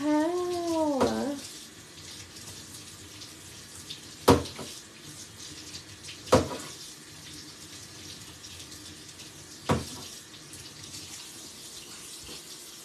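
Tap water running steadily into a sink while a salt shaker is rinsed, a soft continuous stream close by, broken by a few sharp clunks and knocks of the shaker against the basin.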